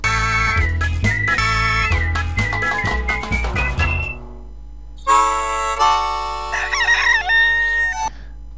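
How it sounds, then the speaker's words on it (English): A rooster crows loudly twice, the first call long and drawn out, the second following after a short pause. "the rooster needs coffee to wake up in the morning"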